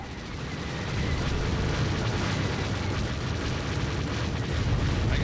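A missile striking a starfighter in The Old Republic Galactic Starfighter video game produces a continuous roaring explosion rumble, loud and broad, holding steady for several seconds.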